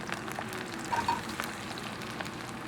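Onion going into garlic and ginger already browned in a pan, giving a steady low sizzle and crackle of frying, fairly close and continuous, with a brief brighter burst near the start of the stirring.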